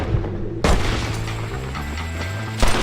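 Gunshots in Red Dead Redemption, two sharp loud blasts about two seconds apart over a low rumbling game score.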